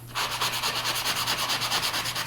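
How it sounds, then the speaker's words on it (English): A sanding sponge rubbing across a mixed media paper background, a loud, close, rhythmic scratching in quick back-and-forth strokes, about eight per second, with no talking. "I'm going to take my sanding sponge and I'm going to sand it."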